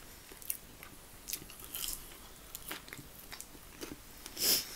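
Crunchy bites and chewing of sweet potato fries, with other barbecue food such as ribs, pulled pork buns and onion rings nearby, come in close, quiet bursts of crisp chomps over a soft room background.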